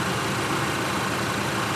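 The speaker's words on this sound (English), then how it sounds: "I'm going to let that engine run a little bit here" A 2020 Chevrolet Equinox engine idles during a transmission fluid check, giving a steady, loud, continuous broadband rumble with no change in pitch and no talk over it.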